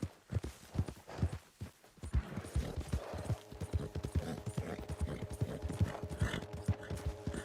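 Horse hooves clip-clop in a steady walking rhythm in Red Dead Redemption 2, with a splashed white American Paint mount plodding along close by. Hoof falls are crisp and regular and run under faint game ambience without talk.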